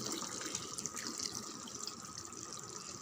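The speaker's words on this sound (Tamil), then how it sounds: "ஒரு டம்ளர் தண்ணி" A tumbler of water poured into simmering chicken curry in a pan, a steady splashing trickle lasting a few seconds with faint drips, no talking.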